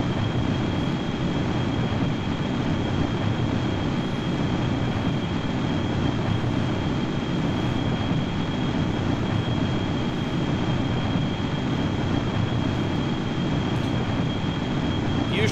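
Jet engines on a VTOL single-stage-to-orbit spaceplane in Kerbal Space Program, heard as a steady, loud, unbroken roar with a thin high whine held throughout, no voices over it.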